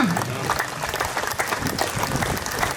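Audience applause at a Sun to Human Foundation gathering in Jabalpur, steady dense clapping filling the room throughout with no gaps, loud and close.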